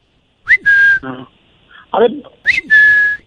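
A voice imitates a balloon whistle stuck in his throat, producing two squeaky whistling tones separated by short strained vocal sounds, loud and close.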